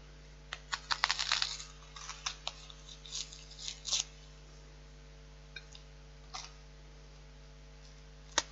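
Kitchen knife cutting the end off an onion on a board, a handful of faint separate clicks and taps in quick bursts, then sparse single knocks, over a low steady hum.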